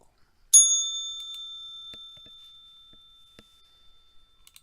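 A single bright bell strike rings out clearly and alone, then its tone decays slowly over several seconds, with faint clicks afterward. The bell marks the open or close of a live stock-trading session.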